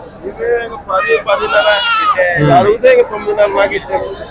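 Several large male goats bleat loudly and close by at Pebbair market, overlapping cries rising and falling amid a bustling market murmur.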